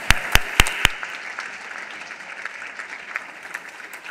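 An audience gives a round of applause at a journalism teaching event. A few sharp, close claps open it, then the clapping fades into a softer, scattered patter from the crowd.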